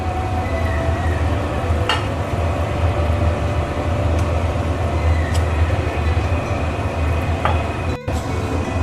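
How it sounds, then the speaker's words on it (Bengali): Fish pieces dropped one by one into boiling curd fish curry gravy of catla, a steady loud bubbling sizzle throughout with a few soft plops and clinks, close up. "ঝোলটা ফুটে এসেছে, মাছগুলো এবারে একটা একটা করে দিয়ে দেবো।"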